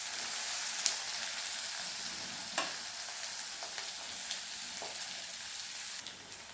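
Moong sprouts sauté with capsicum and tomato in a pan, giving a soft, steady sizzle with occasional faint stirring taps, fairly quiet and with no talk.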